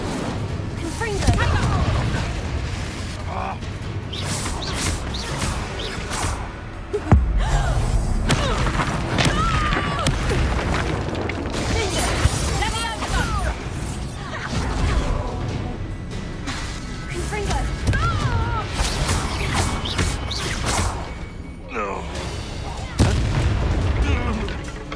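Incendio and Confringo spells fire repeatedly in Hogwarts Legacy, with booming fiery blasts and crackling impacts running almost continuously through a dense, loud game battle. Voices shout throughout the fighting.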